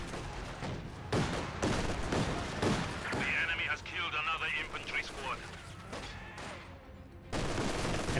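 Mortar rounds and gunfire crack through a Company of Heroes 2 battle, several sharp impacts and bursts of shots scattered across the scene at moderate loudness, with a commentator talking over the fighting.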